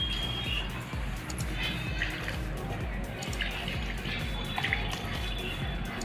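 Water sprinkled by hand over a potted plant's soil, a steady soft patter and trickle running throughout, close and moderately quiet with no voices.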